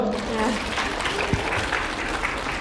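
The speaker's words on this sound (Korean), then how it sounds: "여기 선배님 박수로 해주세요" Clapping from an audience at a school talk on a student exchange in the US, continuous and close, with voices mixed into it.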